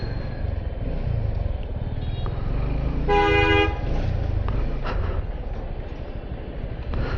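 In a jammed city street, a car horn gives one short, bright honk over a steady rumble of engines and traffic nearby.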